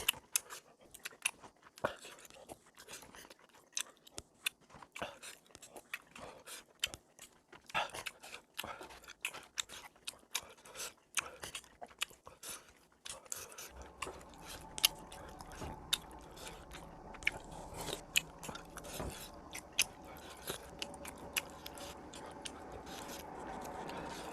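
Chewing and crunching while eating spicy Buldak tteokbokki rice cakes in a mukbang, close and steady, with dense biting and mouth sounds continuing throughout and no talk.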